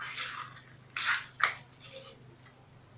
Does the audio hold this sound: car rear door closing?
no